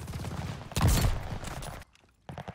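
Type 99 sniper rifle with a 20-round magazine firing in Call of Duty Vanguard, a loud, close burst with a booming tail that cuts off into near silence, then resumes briefly.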